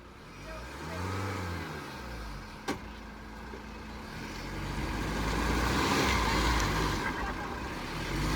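A car engine hums and rises as the vehicle drives and manoeuvres on a mountain road, a steady close drone that swells in the second half, with a brief knock partway through.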